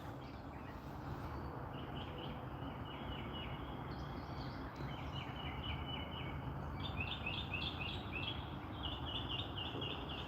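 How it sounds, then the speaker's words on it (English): Small birds chirp and trill repeatedly outdoors in the early morning over a steady low rumble of background noise, with no voices. "You can hear the birds chirping."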